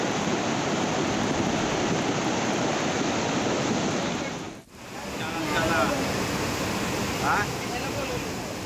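The flooded Vashishti river at Chiplun, swollen by heavy rain since morning, roars as a loud, continuous wash of rushing water that briefly dips midway, with a faint voice barely audible beneath it.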